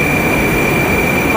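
Moscow metro train arriving at Elektrozavodskaya station, a loud steady rumble of wheels and motors with a sustained high whine running throughout.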